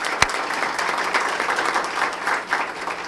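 An audience applauds the ROTC color guard at a ceremony, steady dense clapping from a crowd throughout, with one sharp louder clap standing out near the start.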